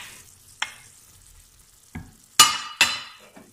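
Browned chicken breast in a frying pan as tomatoes are stirred in: a quiet sizzle broken by a few sharp scraping and clattering bursts from a utensil, the loudest two close together near the end.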